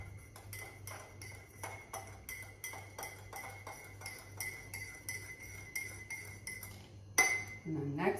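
A spoon clinks rhythmically against a glass while Thai iced coffee ingredients are stirred, a quick, fairly quiet run of ringing taps that ends with a louder clatter.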